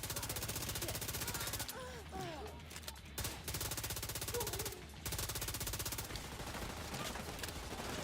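Blind fire from cover in The Division 2, rapid automatic gunfire in dense bursts broken by short pauses, with a voice briefly talking over the shooting.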